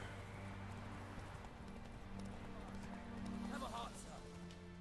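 A horse gallops in The Witcher 3 with rhythmic clip-clop hoofbeats under a low hum, fairly faint, and brief clatter near the end.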